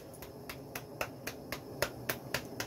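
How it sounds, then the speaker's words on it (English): A person clapping their hands, about eleven sharp, regular claps spaced roughly a quarter second apart, faint and somewhat distant over a low background hum, with no talk. "That's me clapping."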